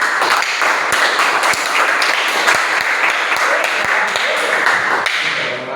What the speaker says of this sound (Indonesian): Sekali lagi tepuk tangan untuk kelompok 3.